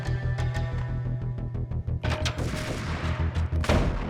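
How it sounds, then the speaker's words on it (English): Gunshots ring out in Max Payne, the 2001 PC shooter, as a sniper fires, a series of sharp loud cracks over a pulsing game music bed, with a denser burst of shots in the second half. "All right, definitely a sniper. I can hear him."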